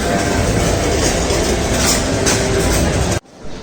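A small ride train at a city shopping centre runs with a loud continuous rumble and clatter of wheels on track, ending abruptly, with no talk.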